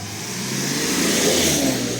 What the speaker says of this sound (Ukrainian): Порш на вулицях Трускавця